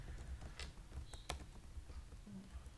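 Quick bursts of clicking keystrokes on a computer keyboard, close and fairly quiet over low room noise, with brief pauses between runs of typing.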